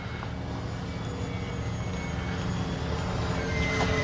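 The twin engines of an X-Fly Twin Otter 1800mm RC model airplane drone steadily in flight, a faint, continuous hum heard from a distance with no talk over it.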